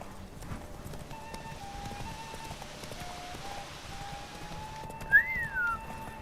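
A galloping horse in The Witcher 3 gives off fainter, steady hoofbeats amid rain-like ambience and game music tones. A short whinny rises near the end.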